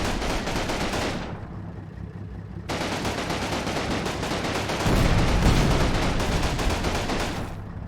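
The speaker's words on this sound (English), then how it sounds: "I like how they still shoot their machine gun." Sustained machine gun fire in the World War II video game Combat Mission Normandy, loud rapid bursts rattling almost continuously, with a brief muffled lull and heavier rumbling fire later.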